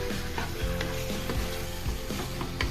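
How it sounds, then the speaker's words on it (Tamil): Chicken sautés in a pan for biryani, with a steady loud sizzle, a low background hum, and repeated scraping thuds as a spoon stirs the pieces. "பாருங்கள், நல்லா வதக்கலாம் சிக்கனை."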